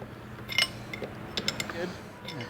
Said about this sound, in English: going to start by just taking this bottom nut loose on the carb